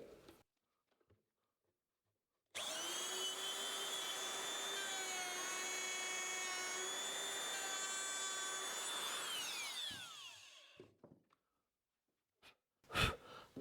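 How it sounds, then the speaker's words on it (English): Router cutting a hinge recess into a wooden door, a loud steady high-pitched whine that runs for about seven seconds, then spins down, with a few knocks around it. "router it out."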